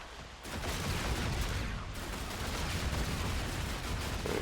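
Rapid sustained gunfire in a zombies shooter game, a dense continuous rattle of shots that runs steadily from start to finish at moderate loudness with no talk.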